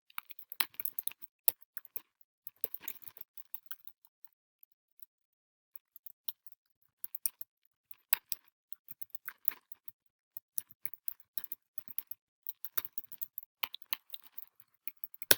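Sparse, faint keyboard typing in a quiet room: scattered soft clicks in short irregular bursts, with longer pauses between runs of keystrokes.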